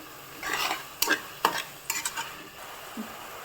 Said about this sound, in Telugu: ఇప్పుడు టమాటా మగ్గేంత వరకు ఉడికించుకోవాలి.